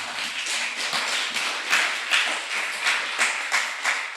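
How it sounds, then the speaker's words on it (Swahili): A church congregation claps together in a steady, dense burst of many hands, loud and close, with no talk over it. "Tupigie makofi."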